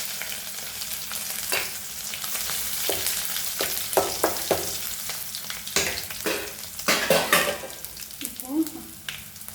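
Asafoetida and garlic fry in a pan for pepper rasam, giving a steady close sizzle broken by repeated scraping stirs and crackling bursts that swell and fade.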